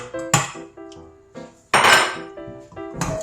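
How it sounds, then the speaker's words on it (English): Butter custard mixture being stirred in a saucepan, with several sharp metallic clanks and scrapes of a spoon against the pan at uneven intervals, close and fairly loud, no talking. "And heat and stir some more."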